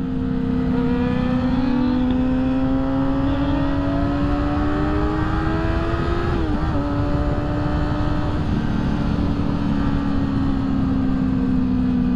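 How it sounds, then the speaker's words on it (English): A motorcycle engine drones loudly and steadily throughout, its pitch rising and swelling through repeated revs as the rider pulls wheelies, with one brief dip and recovery midway; no talking. "I'm gonna let my man get some wheelies in real quick"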